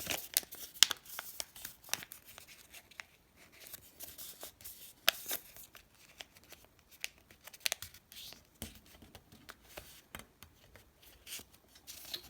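Paper being folded and creased by hand for a cube-shaped Christmas decoration, giving a steady run of close, crisp crinkles and sharp snapping creases with brief pauses, no talking.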